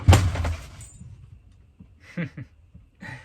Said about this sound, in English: That was the door shutting.